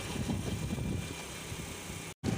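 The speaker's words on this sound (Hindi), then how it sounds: "इस वक्त मैं है ना बाइक ड्राइव कर रहा हूँ" A motorcycle being ridden along a rural road gives a steady low engine rumble mixed with wind buffeting, close and continuous, briefly cutting out to silence near the end; no speech.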